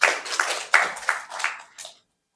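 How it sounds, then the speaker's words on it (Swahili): A small audience claps at a student campaign launch event, with a handful of distinct, uneven bursts of hand claps that thin out and stop abruptly, leaving silence at the end. "naomba tumpige makofi"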